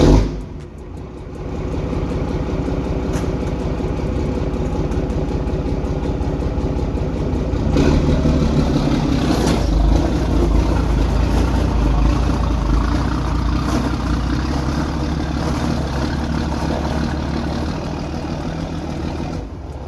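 A 12 valve Cummins diesel in a third-generation pickup with a P-pump fires up, then settles into a steady, loud, low rattling idle with rhythmic diesel clatter, close and unaccompanied by talk.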